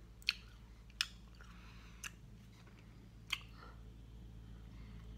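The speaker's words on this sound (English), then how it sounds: "you basically chew it up and then you get left with that" Raw sugarcane being chewed, with a few crisp, sharp crunching bites spaced about a second apart, close to the mouth over quiet background, no talking.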